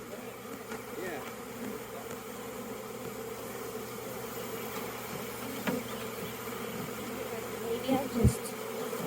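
An outdoor swarm of bees hums in a steady, continuous drone close by, with faint sounds of people moving nearby and a brief louder knock near the end.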